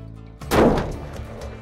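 A single loud rifle shot fired at a range, a sharp close blast with a rumbling echo that decays over the following second, no talking.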